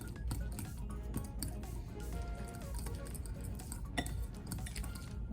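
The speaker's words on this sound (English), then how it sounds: "To make it a little bit sweeter, we're gonna add a few tablespoons of brown sugar." Batter being mixed with brown sugar in a bowl, a steady run of wet squishing, clinking and scraping of utensil against the bowl, close and continuous without talk.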